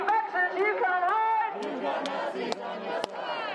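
A crowd of Covid protesters in city streets shouts and chants in many overlapping voices, loud and close, with sharp bangs or claps breaking through the din.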